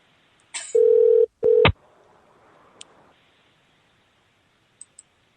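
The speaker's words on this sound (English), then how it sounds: "Let's see if we can get him on the phone here." A telephone dialing out for a call: a few clicks, two loud steady tones, a faint line hiss, then scattered quiet clicks, with no voices.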